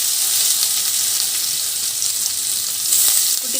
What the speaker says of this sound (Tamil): இப்போ ஒரு 10 நிமிஷம் வந்து இது கோல்டு கலரில் வெங்காயம் வர வரைக்கும் நம்ம வதக்கி எடுத்துக்கணும்